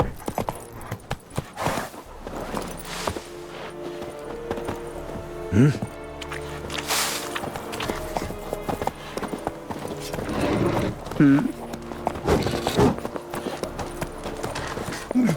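Horse hooves clip-clop at a steady walking rhythm in The Witcher 3, mid-distance and moderately loud, with a brief whinny and ambient music in the background.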